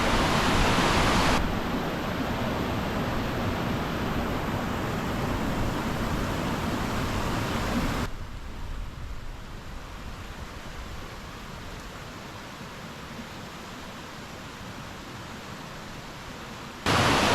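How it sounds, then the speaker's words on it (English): Lake District stream running down to a waterfall near Haweswater, a continuous broad rushing wash of water heard nearby, steady and dense, easing slightly softer partway through. "I've got the tree here and a stream running down to a waterfall."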